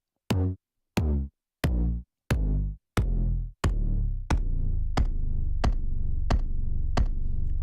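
A deep Roland TR-8S kick drum, tuning turned down and decay left open, thumps in an even, steady pulse. Each hit rings longer until the booms blur into one continuous rumble.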